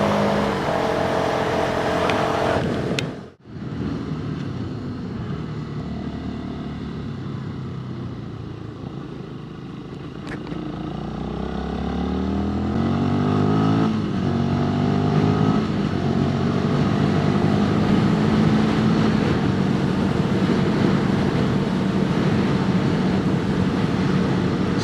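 Sinnis SM-XE motorcycle engine pulling steadily as it climbs through the gears, with rising engine tones after a brief drop near the start, loud and continuous over heavy wind rush, no talking.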